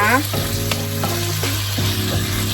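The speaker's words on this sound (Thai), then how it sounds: "ผัดเขาให้สุกค่ะ" Pork stir-fried with black pepper in a hot pan, a steady loud sizzle with scraping spatula strokes and clanks against the metal, close up with no talk.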